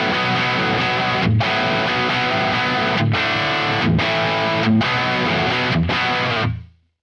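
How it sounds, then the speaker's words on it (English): Heavily distorted electric guitar through a Neural DSP Quad Cortex Brit 2203 amp model plays chugging chords in short, repeated bursts, loud and close, ending abruptly with the amp tone cutting off. "The first patch comes up with this Brit 2203 amp model"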